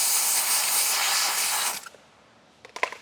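Steam cleaner jetting steam inside a car door, a loud steady hiss that stops abruptly, followed by a few faint clicks and handling sounds.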